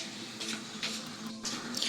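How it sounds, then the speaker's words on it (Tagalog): Water trickling steadily from a tap into a washtub during laundry, a soft continuous patter that stays faint and even, with no voices. "Habang inaantay kong mapuno yung pinapatulo kong tubig sa batya"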